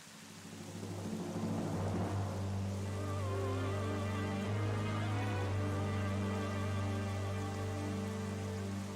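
Steady rain in the video game Twilight Princess, a continuous broadband wash layered under sustained musical tones and low drones, holding at an even level for the whole stretch after a brief soft start.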